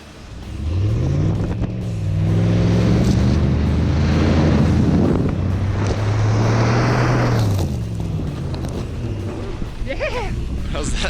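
A truck engine revs hard and steadily while the vehicle is stuck in snow in the New Mexico mountains, a loud sustained drone with rising and falling pitch that holds for several seconds before easing.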